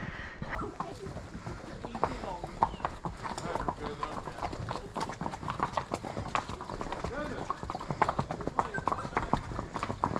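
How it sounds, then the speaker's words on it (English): Horses walk on a riding outing in Africa, their hooves clip-clopping in a dense, irregular patter throughout, close and steady, with people talking over them. "Oh, look at all these horses."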